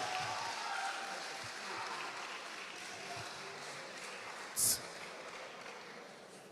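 Faint, steady applause from an audience at a public speaking competition, a soft continuous patter of many hands clapping with no voices standing out.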